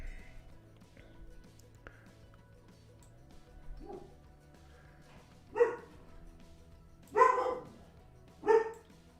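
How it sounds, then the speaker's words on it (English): A dog barks three times, short and moderately loud, spaced a second or two apart, against a quiet indoor background with faint low noise. "What are you barking at, Gunner?"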